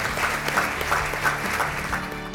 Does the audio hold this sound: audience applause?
yes